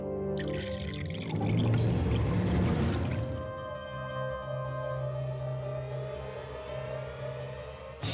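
Drinking water pours steadily into a container, the tone rising as it fills, then settles into a ringing hum.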